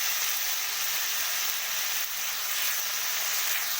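Chopped green chillies and tomatoes hitting hot oil in a pan for a savory semolina dish, giving a loud, steady, close sizzle that hisses continuously without any talking.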